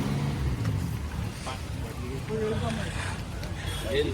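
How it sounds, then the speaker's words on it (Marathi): A tempo truck's engine rumbles steadily and noisily under people talking, with no quiet gaps throughout. "आपला टेम्पो चालला आहे आज"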